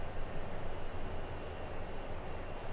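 Train coasting in a train simulator video game, a dense steady rumble and hiss of wheels and running gear with no clear breaks, constant and moderately loud.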